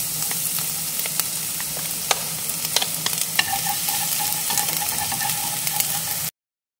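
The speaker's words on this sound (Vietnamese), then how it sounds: "Tiếp theo mình sẽ cho tỏi vô mình phi cho nó thơm." Steady, close sizzling of garlic frying in hot oil in a pan, with sharp pops and crackles throughout, then cutting off abruptly near the end.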